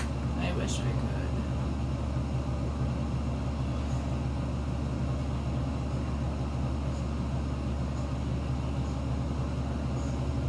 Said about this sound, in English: Sorry about the fan, guys.